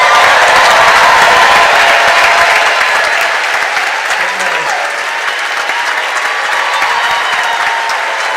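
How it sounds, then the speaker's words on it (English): A large graduation crowd for arts and social sciences graduates claps and cheers loudly in a full, sustained wash of applause that thins a little partway through and then carries on steadily. "Let's cheer them all again."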